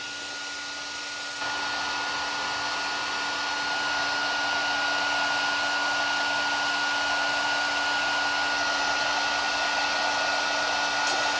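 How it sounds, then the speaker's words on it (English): A heat tool blows steadily to dry ink splatters on a card, a loud continuous whooshing hum that starts softer and rises after the first second, then holds unbroken to the end with no talking. "we're going to heat set this, just because I want to kind of expedite the process of these splatters drying"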